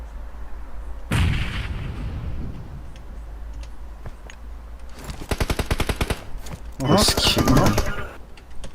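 Gunfire in the PUBG Mobile battle royale game, with rapid bursts of automatic shots around the middle and a loud dense volley near the end, mixed with game ambience and team voice chat.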